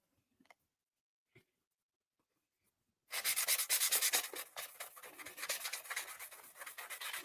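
Filler compound like drywall mud being sanded on an RC tiny truck build in a fab garage, a steady close rasping scrub of rapid strokes starting after a few seconds of quiet with faint taps.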